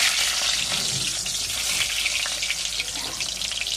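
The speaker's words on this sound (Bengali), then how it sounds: "এখন আমি আলুটা ভেজে নেব।" A potato frying in a pan of hot oil, giving a loud continuous hissing sizzle that stays steady and close throughout, with no voices.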